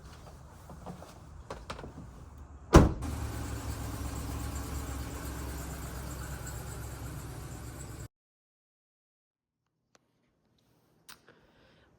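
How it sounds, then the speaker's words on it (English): A massive truck on the move. A sharp thump starts a steady engine and road roar that runs for about five seconds, then cuts to near silence with a few faint clicks. "This truck is massive and I don't love driving it because it's so hard to park"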